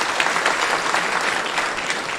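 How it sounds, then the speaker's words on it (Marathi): An audience at a kirtan in Alandi applauds steadily, a dense, even wash of clapping that holds at moderate level with no voices over it. "म्हणून एकदा ज्ञानेश्वर महाराज संस्थांसाठी जोरदार टाळ्या वाजा"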